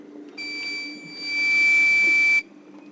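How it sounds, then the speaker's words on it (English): A boat's engine warning beeper sounds with the kill switch pulled off, giving one steady high-pitched electronic tone lasting about two seconds, loud and close, over a faint low hum. "You're going to get a beep"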